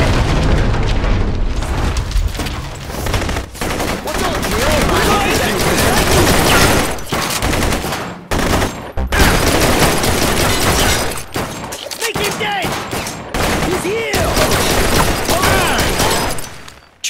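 Game gunfire and explosive booms in the Blue Estate shooter, dense and loud, with repeated bursts across a chaotic action scene under music and intermittent voices.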